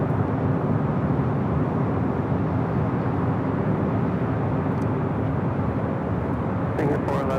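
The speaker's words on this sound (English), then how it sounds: "Singapore, the next takeoff here on the north." A Singapore Airlines heavy jet rolls for takeoff on the north runway at LAX, a broad steady roar heard from a distance with faint radio-style voices briefly near the end.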